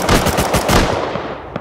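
Rapid automatic gunfire in the survival video game Rust, loud bursts of several shots crackling close by, with a lone sharper shot near the end.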